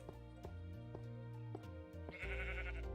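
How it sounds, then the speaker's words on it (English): Sheep in a Minecraft-style block game bleat a few times in wavering calls, fairly quiet beneath clicking block-placing sounds and a brief swishing noise toward the end. "I hear sheep."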